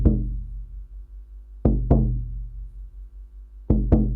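A deep shamanic frame drum in a changed, sparse return rhythm: single loud strikes and close pairs separated by long ringing pauses, resonant and near with no talking.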